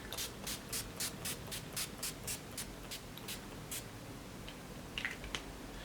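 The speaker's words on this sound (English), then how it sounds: "Using a setting spray which is from NYX Cosmetics." A run of short, regular spritzes of NYX Cosmetics setting spray, about a dozen quick hisses in a row, then a few more after a pause.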